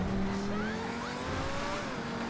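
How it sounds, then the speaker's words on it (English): A Progen Luiva sports car in GTA Online braking hard, its tires squealing in a sustained pitched screech over the engine drone, loud and close for about two seconds. "And slam on the brakes in."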